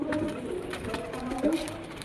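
Young giribaj pigeon cooing softly up close, a low steady murmur running through the whole stretch with no one speaking.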